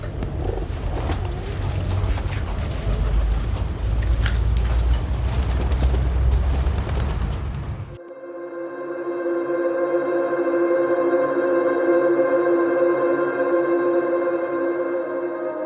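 High-flying pigeons at a loft in northern Yogyakarta make noise, with a rough, busy first half giving way to steady, droning, coo-like tones.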